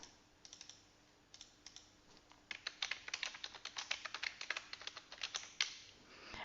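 Fingers type an email address on a computer keyboard, a quick run of soft key clicks that starts sparse and grows into a steady patter, faint and close.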